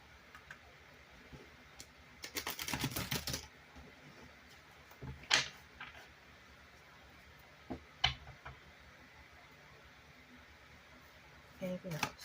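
A short burst of rapid riffling as tarot cards are shuffled, followed by a few scattered sharp clicks and taps in an otherwise quiet room.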